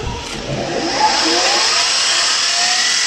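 A small engine being built as an OHC project screams at high revs, around twelve thousand rpm, holding a steady, loud whine for a few seconds with no talking.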